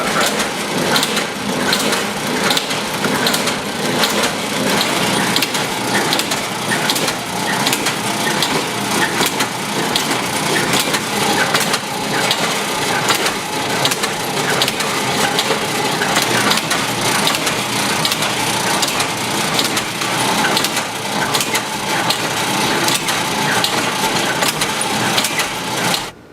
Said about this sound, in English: And I'll demonstrate how they crack the pecans.